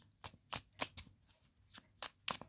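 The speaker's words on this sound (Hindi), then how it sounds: "last shuffle" Tarot cards being shuffled in rapid, evenly spaced riffling bursts, about eight crisp flutters close by with no talking.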